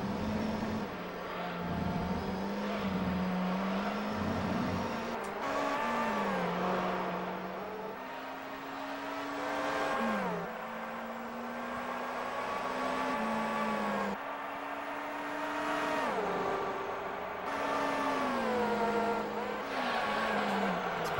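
F1 race car engines whine and shift through gears in a video game race at Apricot Hill, pitch climbing and dropping repeatedly as cars jostle and pass, a steady close engine drone throughout.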